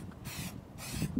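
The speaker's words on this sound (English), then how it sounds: "when I spray, I usually do nice, gentle, short spurts" An aerosol spray can hisses in two short, gentle spurts over a wooden birdhouse, each burst a soft airy spray separated by a brief pause, close to the listener.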